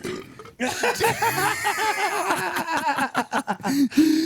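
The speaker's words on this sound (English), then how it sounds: "Barney from The Simpsons burp" A loud, drawn-out belch from a man, rumbling and croaking for several seconds close to the mic and ending in a few choppy bursts, with no other voices.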